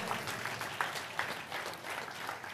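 A church congregation claps in praise to God during a Christmas sermon, a dense ripple of applause lasting a couple of seconds, moderately distant and fairly soft.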